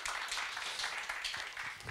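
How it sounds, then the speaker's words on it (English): An audience at a music-industry conference gives a round of applause for a ten-year service anniversary, with steady, dense clapping filling the room at moderate volume throughout. "So a round of applause for 10 years service to the independent sector."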